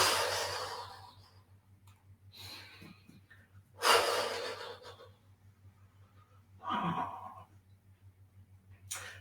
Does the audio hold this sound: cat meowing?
no